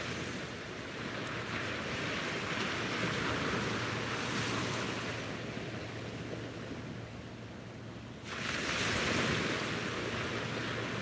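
Steady surf washing onto a beach, with a broad rushing roar that swells and fades, a fresh wave breaking loudly near the end, with some wind noise.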